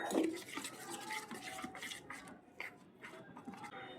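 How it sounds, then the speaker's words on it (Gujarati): Maida flour and water being stirred into a batter with a spoon in a bowl, a soft, close, continuous scraping and swishing with a few light taps, faint and steady, no talk. "એમાં થોડું એવું પાણી નાખી અને બેટર બનાવી લેશું."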